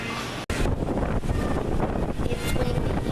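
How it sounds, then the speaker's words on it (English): Strong wind from a passing tropical depression buffets the microphone in loud, rough gusts, with a brief dropout early on and no clear voices. "It's windy here. There's tropical depression coming through."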